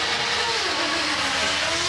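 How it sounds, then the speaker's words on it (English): A Ford Raptor rally car accelerates hard off the start line on a forest rally stage, its engine note climbing in pitch as it revs, loud and close, with no voices. "The sheer power and grunt of that car right off the start line as the Raptor plunges through now."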